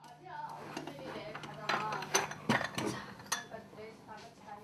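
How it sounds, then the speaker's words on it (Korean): Dishes and bowls clattering in a home kitchen as they are taken down from a high shelf, a string of clinks and knocks under a steady hum with people talking over them. "높은 곳에 있는 그릇들을 꺼낼라 치면 받침대가 필요하다"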